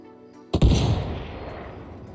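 A single heavy grenade blast in a shooter game, a sharp close boom that rolls into a long, fading rumble with no talk over it.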